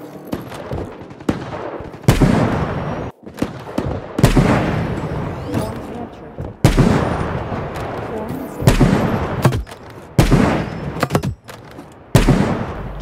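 Rapid bursts of gunfire from a video game shooter played on laggy servers, loud, close and repeated in clustered volleys with brief gaps, sometimes heavy booming shots, running almost continuously through the stretch.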